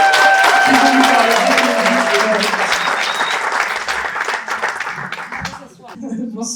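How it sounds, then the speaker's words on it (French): A crowd bursts into loud, sustained applause for two speakers arriving onstage at an evening event, and the clapping thins out toward the end while voices come through. "faites un tonnerre d'applaudissements pour Erika et Florence"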